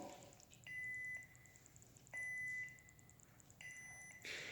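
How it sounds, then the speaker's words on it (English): Three evenly spaced electronic beeps from a Proffie v2.2 lightsaber volume control menu, each a steady tone lasting about half a second, sound close and clear over a faint background hum. "And you'll hear that beep."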